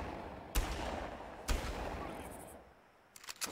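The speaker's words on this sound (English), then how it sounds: "Oh, that's a minigun." Gunfire in the 2004 video game Far Cry: two heavy, sharp shots about a second apart, then a quick cluster of cracks near the end, all over a low rumbling game background.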